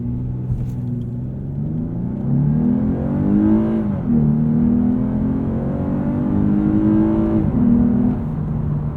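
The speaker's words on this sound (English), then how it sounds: "Let's throw us into Sport Plus and do a launch." A 2022 Lexus RC 350 F Sport AWD in Sport Plus mode launches hard from a standstill, its engine note climbing through rising sweeps with brief dips at shifts, loud and close from inside the cabin with no talk.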